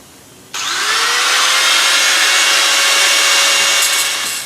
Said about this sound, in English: So it's grinder time, and that won't be fun.